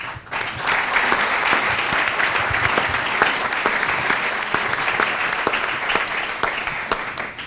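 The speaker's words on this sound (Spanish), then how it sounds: "Qué bueno que aplauden ahorita y no al final" A full auditorium audience applauds at a book presentation, with loud, sustained clapping from many people and sharp individual claps standing out, holding steady before easing slightly at the end.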